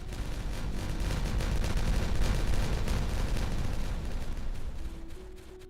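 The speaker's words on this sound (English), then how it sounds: "it's high time we detonate it all" Explosives detonating in the beaver colony-building game Timberborn, a sustained rumbling burst of blasts that swells, holds loud for a few seconds and then fades away.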